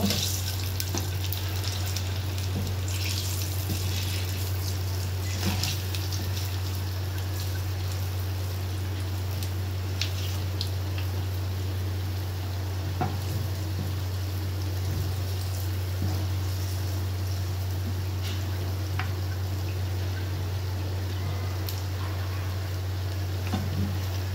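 Palm fruit fritters (taler bora pitha) fry in oil with a continuous soft hiss and scattered faint crackles over a low steady hum. No one speaks.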